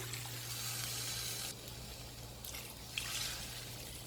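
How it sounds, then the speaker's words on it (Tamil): Steady broadband rush of about three tumblers of water pouring into a cooking pot for Chettinad crab curry, shifting in intensity partway through, with a low hum underneath; no voices. "3 டம்ளர் அளவு தண்ணி சேர்த்துருக்கேன்"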